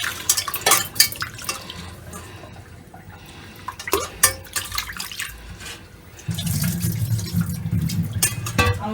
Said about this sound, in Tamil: நம்மளும் கொஞ்சம் நல்லா அலசி எடுத்துக்கணும்